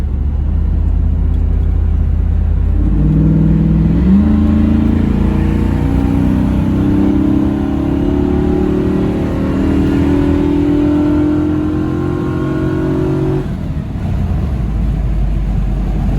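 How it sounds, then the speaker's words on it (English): Chevrolet Camaro Z28 V8 with a shift kit pulls hard under acceleration, engine note rising steadily toward redline for several seconds before a shift, loud and close with a deep rumble underneath. "You can tell there's some kind of shift kit in it too, just by the way it red lines before it shifts."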